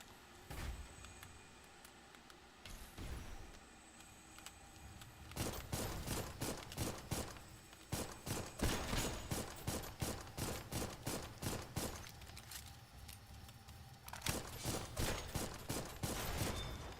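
Rapid gunfire from an exosuit robot in the video game Dolls Nest, starting as a few isolated shots and then building into long stretches of dense, repeated bursts. It plays loud and close, with no talking over it.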